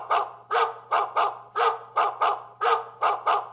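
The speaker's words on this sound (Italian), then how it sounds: "Addirittura può fare i cani?" A Xiaomi home alarm plays a synthetic dog barking, repeated barks in a steady pattern over a faint constant hum.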